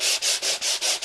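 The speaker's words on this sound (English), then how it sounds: "I'll just kind of sand that just to show you" Craft paper rubbed with a flat sanding grip makes a steady, close scratchy rasp, about six even back-and-forth strokes in just over a second, with brief dips between passes.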